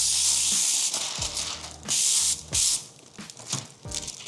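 A spray bottle hisses in several sharp bursts, close by, while applying window tint film to a 2025 Toyota Camry, with clicks of the trigger and small handling noises between sprays.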